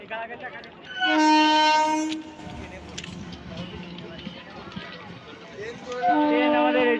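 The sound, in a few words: train running on the rails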